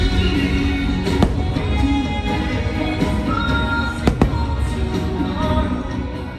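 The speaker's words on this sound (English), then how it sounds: "The show features some impressive fireworks" Fireworks from the Disney Enchantment nighttime show at Magic Kingdom, heard as a steady rumbling wash with a few sharper pops and bangs scattered throughout, somewhat distant and moderately loud.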